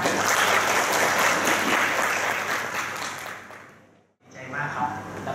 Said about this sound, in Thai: ขอเสียงปรบมือต้อนรับท่านนายแพทย์วิสิทธิ์เลยค่ะ